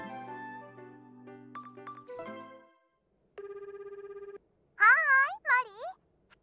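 A phone call chime in the dating sim Tokimeki Memorial Girl's Side 4 plays after a short musical sting, a steady pulsing ring tone followed by bright rising electronic chirps, with no talking over it.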